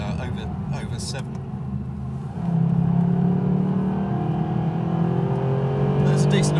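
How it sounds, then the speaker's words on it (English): A naturally aspirated Mercedes SLS supercar engine revs and pulls on the road, a steady rising drone that grows louder midway, with someone talking over it. "This engine is peachy. I mean, you can hear how good it is."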